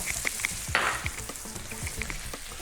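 Rice cakes and chicken gizzards sizzle in a hot pan, close up. A spatula stirs them in quick scrapes and taps over the constant frying hiss.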